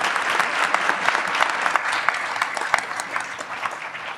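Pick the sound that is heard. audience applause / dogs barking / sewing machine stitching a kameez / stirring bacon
audience applause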